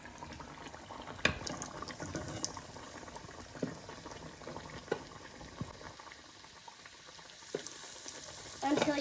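Donut dough sizzling and bubbling in hot frying oil, a steady crackling fizz with small pops and occasional louder spits, close and fairly quiet with no talking.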